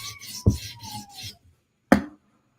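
A knife edge is drawn across a sharpening stone in a few quick rasping passes, two brief strokes after an initial scraping run, close and fairly loud with no talk.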